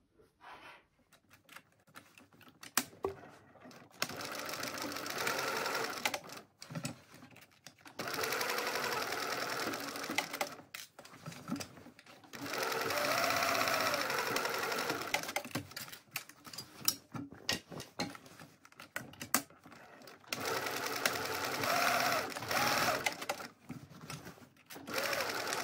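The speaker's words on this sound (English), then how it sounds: "So what we're going to do is sew across this with 3/8 of an inch seam allowance." A sewing machine sews the box corners of a handbag lining with a 3/8 inch seam allowance, running in several quiet bursts of rapid, even stitching separated by short pauses.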